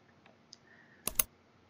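A few sharp clicks of a computer mouse on a desk, a faint tap or two first and then a quick close pair of clicks, with no talking.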